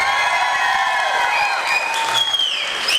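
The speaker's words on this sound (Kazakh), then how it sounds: "Бірінші, армейскийна шапалақ." Wedding guests at a contest during a toy celebration burst into loud, continuous applause, with whistles and sliding tones rising over the clapping.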